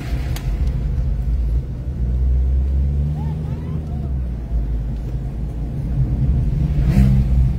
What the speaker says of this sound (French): La moto, elle n'est pas passée loin.